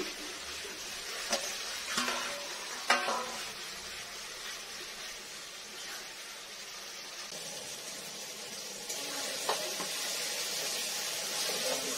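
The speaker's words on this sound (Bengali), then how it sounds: "আমি এই যে পেঁয়াজটা ভেজে একটু মিক্সচার করে দেবো" Onion frying in a pan at home while a mutton dish is prepared, giving a steady soft sizzle with occasional scraping stirs across the whole stretch, no talking.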